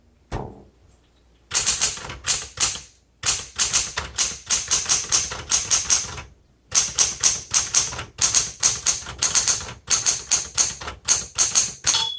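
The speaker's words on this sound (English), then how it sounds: "it takes a little more effort to type on it" Keys clacking on a 1970s Smith Corona Galaxie Deluxe typewriter, firm close strikes in quick bursts separated by short pauses, with no talk.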